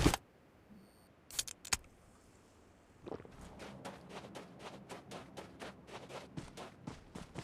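A vehicle in the PUBG game on the Livik map. A few sharp clicks and clatters give way to a run of rhythmic mechanical pulses, moderately loud, with no speech.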